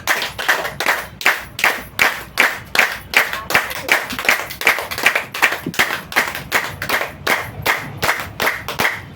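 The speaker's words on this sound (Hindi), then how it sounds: "एक बार विशेष ताली बजाओ आप" An audience claps in steady unison, loud and close, with sharp synchronized beats of about two per second that continue throughout with no voices.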